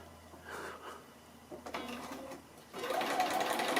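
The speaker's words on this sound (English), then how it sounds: "So I'm just sewing on piece B5, which is the second of the outside coloured pieces" Quilt fabric pieces feed through a sewing machine in short bursts, the motor whirring in close, quiet stop-start runs that grow louder near the end.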